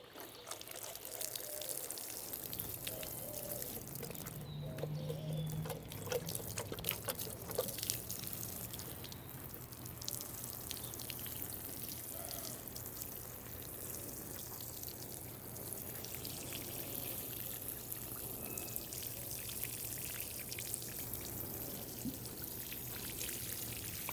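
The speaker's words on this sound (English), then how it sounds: "now I'm going to water the cactus." Water mixed with liquid fertilizer is poured onto a potted cactus, a soft, quiet trickle and patter that runs steadily throughout with no talking.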